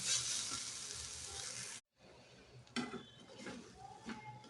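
Pea filling for kachori is stirred in a pan until dry, giving a soft hissing sizzle broken by a brief silent gap, then spatula scrapes and light clinks against the pan, faint and close.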